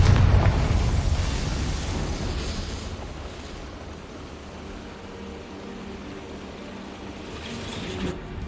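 A Confringo spell explosion in Hogwarts Legacy bursts loud at the start with a deep rumbling boom, then decays into a long, fading roar of debris and rushing noise before a faint pop near the end.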